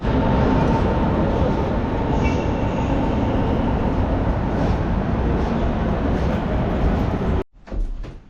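Train at a Berlin station: a steady, loud rumble of rolling carriages and rail noise fills most of the span, then cuts off abruptly near the end, leaving a brief quieter stretch with a muffled thump, like a door closing.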